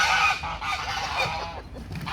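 Homestead geese honking loudly and nearby, a busy overlapping chorus of harsh calls with no pauses, sounding alone without talk.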